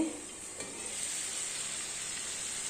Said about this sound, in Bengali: আলু পোস্তের আলু ভাজা হচ্ছে